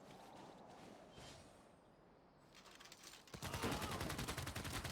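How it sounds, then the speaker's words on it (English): Distant gunfire in the Civilization VI strategy game from a battle with barbarians, starting faint and swelling into a dense rapid volley in the final seconds. "I'm trying to figure out where's all the gunfire coming from"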